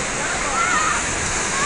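Coban Pelangi, the Rainbow Waterfall, roars with steady broadband rushing water, loud and unbroken throughout, with a voice faintly present beneath.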